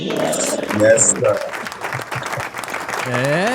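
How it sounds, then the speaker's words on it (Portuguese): Audience applause at a talk after a mention of Brazil's first medal, heard as dense, steady clapping with cheering and voices mixed in, fairly loud throughout. "Palmas!"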